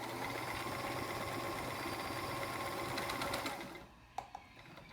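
A vintage Sears Kenmore 158.14300 heavy-duty sewing machine stitches in a steady close whirring run, then stops, leaving a few faint clicks.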